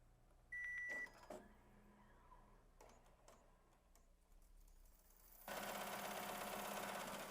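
A Melco SUMMIT embroidery machine stitches micro chenille at around 1,000 stitches per minute, heard as a quiet, steady mechanical whir with brief clicks and a louder broadband burst of running noise near the end.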